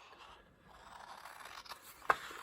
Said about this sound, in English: carefully cut on the creases from the folds